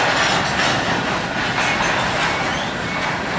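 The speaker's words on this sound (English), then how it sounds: "The train's still going." A train rumbles steadily past a lowered crossing gate at Burleson Street, San Antonio, Texas, a loud continuous roar with faint clattering wheels throughout.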